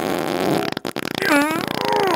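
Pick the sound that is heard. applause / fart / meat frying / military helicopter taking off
fart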